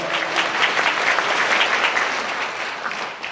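A church congregation claps together in sustained, dense applause that stays steady and loud throughout, with no voices standing out.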